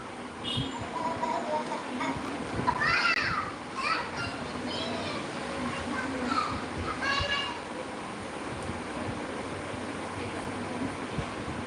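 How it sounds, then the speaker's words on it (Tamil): Children play nearby, and their high, excited voices rise and fall over a steady background noise. The voices fade out in the second half. "சின்ன பசங்க சாங் கேட்குது விளையாடுறாங்களா"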